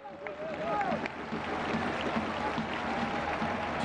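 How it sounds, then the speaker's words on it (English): Football crowd at a Kitchee versus Ninh Binh match applauding a pass, a broad wash of clapping and crowd noise that swells early and then holds steady. "Just applauding the ball that he got there."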